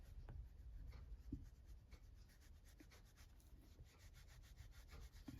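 Soft, steady rubbing strokes of oil pastel being spread across paper with odorless solvent, close and faint with repeated scrapes, no talking.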